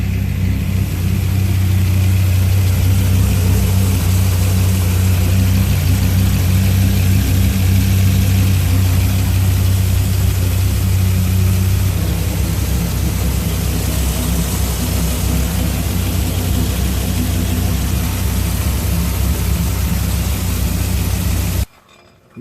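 A 2004 Dodge Viper V10 idles steadily and loud at close range for the whole stretch, a deep low rumble that stays even throughout, with no talking, cutting off abruptly at the very end.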